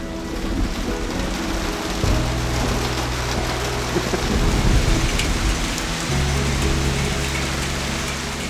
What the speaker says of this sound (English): As the first few drops of rain come